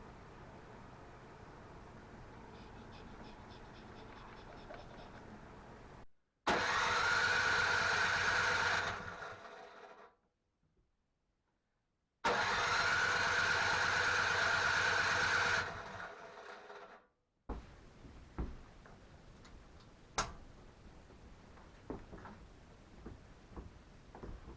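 Troy-Bilt snow blower engine fitted with a new carburetor, starting and running loud at full throttle in two long bursts separated by a silent stop, then cutting out to quieter background clicks and knocks.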